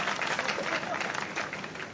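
Audience applause at a Hindi poetry gathering, an all-India kavi sammelan in Etawah, with steady clapping filling the whole moment at moderate loudness.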